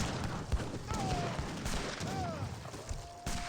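Busy Age of Empires 3 battle din of rapid gunfire bursts and booming cannon and organ gun shots, with whistling projectile tones cutting through, all fairly dense and continuous.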